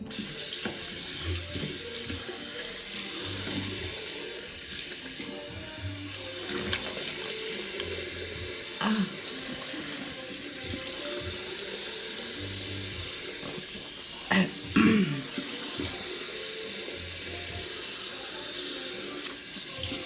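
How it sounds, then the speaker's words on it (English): A bathroom tap runs steadily while a charcoal peel-off mask is rinsed off a face, a constant mid-level hiss of flowing water with occasional splashes and hand movements breaking the stream. "now I'm gonna go ahead and I'm gonna rinse it."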